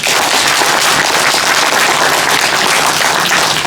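A lecture audience at a Korean talk by the head of the Liberation Association bursts into loud, dense, continuous applause that fills the whole stretch without pause.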